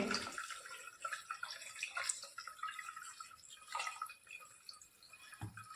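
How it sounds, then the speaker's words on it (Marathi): Cold water pours over cooked, drained veg noodles, a faint, soft splashing trickle with uneven surges. "लगेचच याच्यावर थंड पाणी घालतो"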